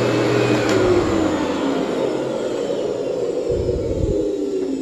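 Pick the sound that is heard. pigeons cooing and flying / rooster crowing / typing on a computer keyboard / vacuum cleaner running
vacuum cleaner running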